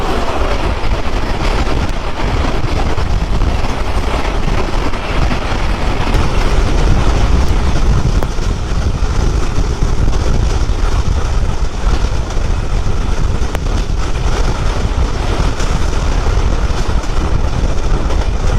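Sundarban Express train running, heard from on board as a continuous loud rumble and rushing wind-like roar with no talking.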